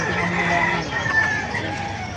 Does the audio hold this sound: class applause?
no